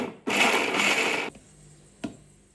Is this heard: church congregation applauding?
no